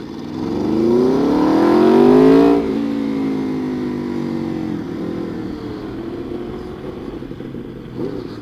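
An Aprilia RSV4 RF V4 sport motorcycle engine revs up hard with rising pitch, then drops back to a steady, rumbling run under throttle; loud and close.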